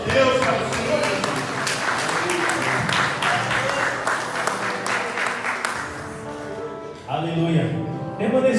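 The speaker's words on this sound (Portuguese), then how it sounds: "Vamos dar uma salva de palmas para o nosso Deus, para o Senhor Jesus." A church congregation at a Sunday worship service applauds in a dense, sustained burst of clapping that fills the room, thinning briefly before swelling again.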